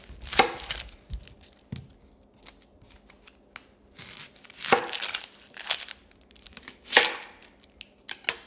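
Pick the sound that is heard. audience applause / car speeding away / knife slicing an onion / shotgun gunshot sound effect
knife slicing an onion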